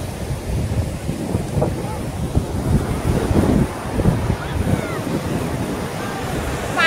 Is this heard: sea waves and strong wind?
yes